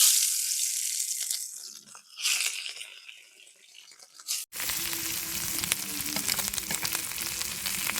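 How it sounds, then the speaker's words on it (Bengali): Eggs frying lightly in hot oil in a pan for a roast, a steady close sizzle that dips briefly, then cuts to a lower, busier crackle. "এবার ডিমগুলো একটু হালকা করে তেলে ভেজে নেবো"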